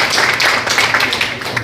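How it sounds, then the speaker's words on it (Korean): A seated forum audience at a seafood-safety event applauds a fisheries cooperative head, producing a dense, steady patter of many hands throughout, fairly loud and close with no pauses. "한 번 더 박수 부탁드립니다"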